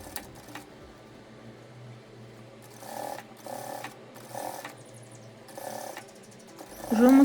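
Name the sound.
sewing machine stitching a Quran book cover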